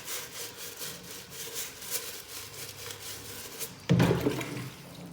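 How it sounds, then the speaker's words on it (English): A toilet brush scrubbing a smelly kitchen sink drain soaking in water, with rhythmic rasping strokes throughout, then a louder, wetter swishing burst near the end. "Let's get into this with the toilet brush."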